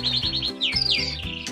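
Pet canaries chirp and tweet in quick, bright bursts close by, over a low steady background hum.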